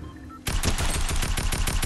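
Rapid automatic gunfire in Fortnite bursts in after a quiet moment and keeps going as a loud, continuous stream of shots.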